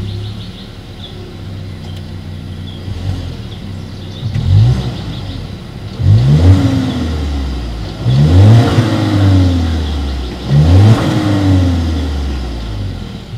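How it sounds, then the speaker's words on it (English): A 2019 Volkswagen Tiguan engine revs repeatedly, its exhaust roaring up in four or five loud bursts that rumble back down to a low idle between them. "here is that exhaust clip"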